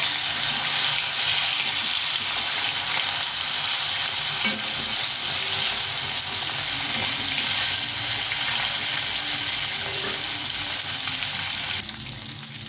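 Pieces of rohu fish fry in hot oil in a pan, a dense continuous sizzle holding loud and even throughout before easing slightly at the very end.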